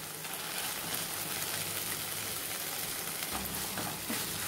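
Cooked basmati rice goes into a pan of potato masala, heard as a steady, close frying hiss that holds level throughout, with a soft shift in texture near the end as the rice lands.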